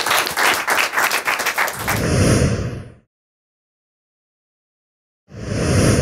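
Startup pitch audience applause, a short burst of clapping from a crowd that quickly gives way to a roaring broadband swell, then abrupt silence before the noise returns.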